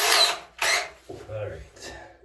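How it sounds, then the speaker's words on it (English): A borrowed handheld power drill whirs in short bursts, two strong revs followed by quieter runs, close by with a voice talking briefly between them, inside a home-built submarine during ballast bag installation. "This is my son's drill."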